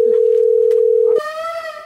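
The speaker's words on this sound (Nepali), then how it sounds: "ओहो फेरि कसको फोन आएछ" A telephone gives a loud, steady electronic tone that switches to a brighter, buzzing ring partway through, signalling an incoming call, with no voices.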